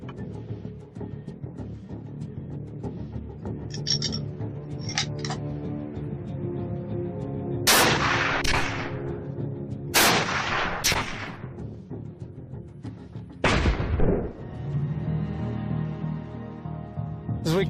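Rifle shots fired with steel-core and lead-core bullets into test targets such as a shield and a 12-inch tree trunk: several sharp, loud cracks, some in quick pairs, spread across a steady background rumble.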